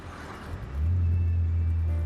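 Mazda MX-5 Miata NB roadster driving in cold weather, its engine swelling into a loud, low steady drone partway through that holds to the end, heard from inside the car.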